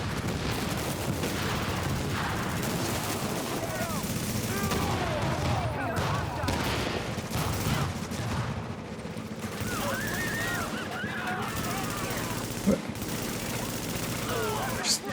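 Gunfire rattles almost without pause in a shooter video game, with dense bursts of rapid shots and heavy booms layered over voices talking throughout.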